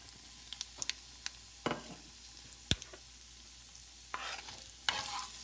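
Cumin seeds and other spices sizzle in hot oil while tempering for apple pickle, with sharp intermittent crackles and pops over a soft, steady fry; no one speaks.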